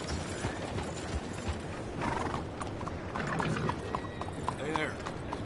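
Horse hooves clip-clop in a video game, a close rhythmic clatter under game voices and a faint whinny.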